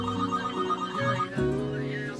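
A telephone rings in a dramatic scene, a loud electronic ringtone melody with sustained tonal notes, up close and continuous over a soft background.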